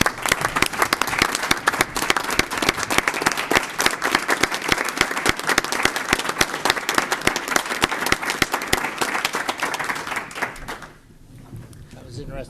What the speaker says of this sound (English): would you please join me in a round of applause for Peter Crumbine?